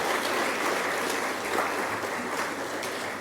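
An audience applauding at a university inauguration of a School of Biosciences, a dense steady clapping from many hands that carries evenly from start to finish.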